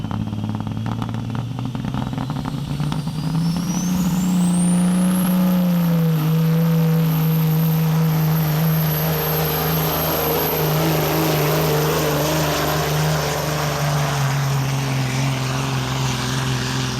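Pro stock semi truck, a Peterbilt, at a county tractor pull: a loud engine roars up to a steady high whine and holds it for a long run, close and constant.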